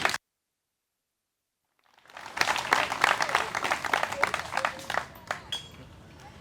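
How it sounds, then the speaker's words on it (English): Crowd at an outdoor playground ribbon-cutting ceremony in Brookside Park, Ames, breaking into applause after a brief silence, a dense burst of clapping that swells and then gradually thins out. "So let's give everybody, all that staff, a big round of applause."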